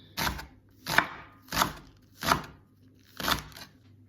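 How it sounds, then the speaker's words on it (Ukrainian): A knife chops onion on a board in five distinct, evenly spaced strokes, close and crisp with quiet gaps between each cut. "Нарізаємо дрібненько цибульку."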